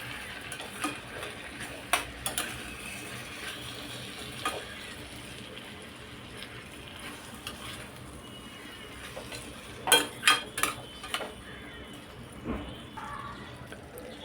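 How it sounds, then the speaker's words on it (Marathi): A spoon stirs a raw mango muramba mixture in a pan, making soft scraping and wet sticky sounds with occasional sharper clinks of the utensil against the metal, fairly quiet and close. "हेही आपण मिक्स करून घ्यायचं आहे।"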